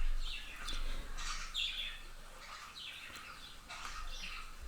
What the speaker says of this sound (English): A lot of times they squeak like that when they're letting me know they're going to do a flyby.